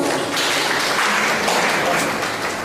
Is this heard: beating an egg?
no